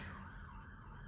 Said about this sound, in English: Sorry about the siren, you guys.